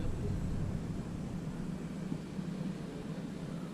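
A Carbon Cub S2 RC model airplane flies just after takeoff, its steady motor drone fairly faint and distant beneath broadband wind-like noise.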